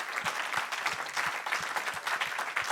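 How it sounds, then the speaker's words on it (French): Audience applause at an evening worship gathering, steady rhythmic clapping in unison with regular beats, fairly close and sustained for a few seconds with no speech. "On peut l'applaudir encore."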